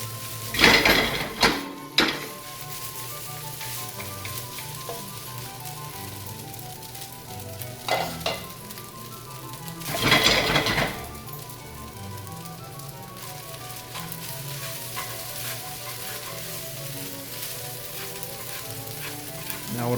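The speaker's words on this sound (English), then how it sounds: "add the rice. You want to stir it up so you properly incorporate all the ingredients into the rice." Fried rice sizzles steadily in a hot pan while being stirred, with a continuous frying hiss and several louder bursts of clanking as the utensil scrapes and strikes the pan.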